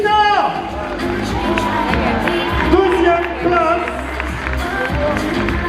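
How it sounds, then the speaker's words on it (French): Crowd cheers and claps throughout a French bodybuilding competition in Paris as the men's model category runner-up is announced, with a loud announcer speaking over the steady noise of the audience. "On applaudit s'il vous plaît"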